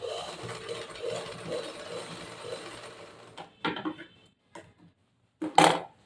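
A sewing machine stitches a fall onto the border of a saree, giving a steady mechanical whirr for about three seconds. It then stops, followed by a few scattered handling clicks and a short rustle close by.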